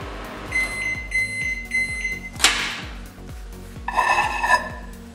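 A steady low hum of a microwave oven running during a repair test, with repeating beeps and a brief sharp clatter partway through, no voices.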